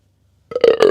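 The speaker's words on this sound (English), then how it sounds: "A little bit of a burp." One loud, close burp from a person out running errands, rolling and voiced for about half a second after a quiet lead-in.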